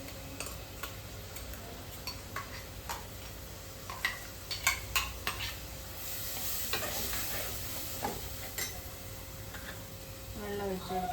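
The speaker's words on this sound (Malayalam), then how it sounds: "എനിക്കിനി അരച്ച് വെച്ചേക്കുന്ന അരപ്പും കൂടി ഇട്ട് കൊടുക്കാം" Ground spice paste hits a hot frying pan in a home kitchen and sizzles steadily while a spoon scrapes and taps against the pan in irregular clicks, with faint background noise throughout.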